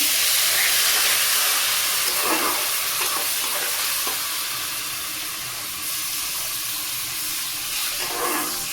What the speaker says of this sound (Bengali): এবার আমি জল দিয়ে দেবো বন্ধুরা জল দিয়ে দিলাম